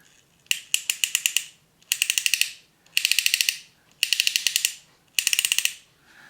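Mechanical ratcheting clicks from a 1976 Mego Fonzie toy motorcycle come in five quick bursts, each a rapid run of sharp ticks with short pauses between, close and fairly loud, no talking.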